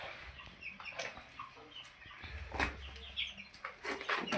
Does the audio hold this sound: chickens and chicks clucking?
yes